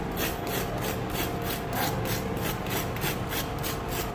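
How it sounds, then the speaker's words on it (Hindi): Rhythmic dry crunching and crackling, close and steady, like crisp fried pastry being pressed and broken, with no voices. "ऊपर से बहुत ही ये क्रिस्पी बनते हैं, बहुत ही क्रंची बनते हैं।"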